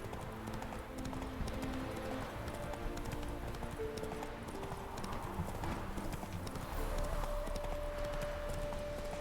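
In The Witcher 3, the horse Roach gallops with a continuous rapid rhythm of hoofbeats, steady and close, over a low game ambience.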